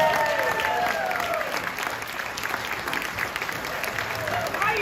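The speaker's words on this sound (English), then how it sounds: "let's give her a great round of applause" An audience at a comedy club claps steadily to welcome a comedian, dense, sustained applause throughout with some crowd voices mixed in.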